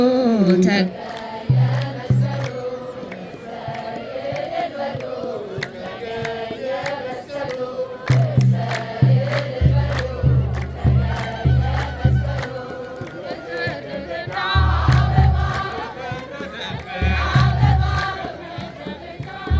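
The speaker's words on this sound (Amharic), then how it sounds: "እሰይ እልል በሉ" A church congregation ululates in celebration during a cross hymn, shrill trilling voices rising in waves over singing and heavy rhythmic drumbeats, loud and sustained, with chanting voices between bursts.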